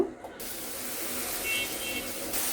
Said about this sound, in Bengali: এখন চিংড়ি মাছগুলো ভেজে নিব